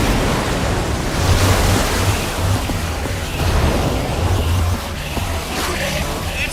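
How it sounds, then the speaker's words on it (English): Water gushes in a broad, roaring rush from a machine in Minecraft Story Mode, loud and sustained with surging swells like surf, with no voices. "I don't know how much water this thing is going to kick out"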